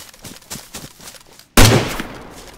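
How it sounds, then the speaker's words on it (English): One sharp, loud gunshot cracks out close by and rings off, following a stretch of faint, soft tapping in the background. "I can hear you firing, boys."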